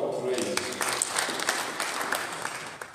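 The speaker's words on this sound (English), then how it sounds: "Give the Lord a clap of praise." A church congregation claps in praise during a service, a quiet, scattered patter of claps with voices talking underneath.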